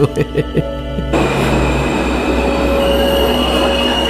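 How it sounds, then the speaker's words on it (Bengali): A local train pulling into a station, a broad steady rumble of wheels and carriages that swells in after a few brief knocks, with faint squealing tones above and no talk. "ওই তো ট্রেন এসে গেছে।"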